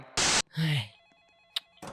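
A Roblox telephone gives a bright electronic ring in short warbling pulses, fairly quiet, while loud bursts of noise and a voice break in around it.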